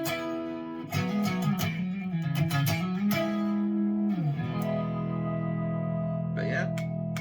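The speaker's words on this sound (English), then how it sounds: "what should be the P90 sound is the loudest one of the three there." A UK-made 1990s custom 'Red Earth' electric guitar played on its P90 pickup setting sounds sustained ringing notes with bends and slides, then a long held chord that fades with a little reverb.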